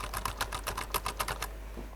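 A quick run of about a dozen keyboard keystrokes, close and fairly soft, then stopping abruptly over a low hum.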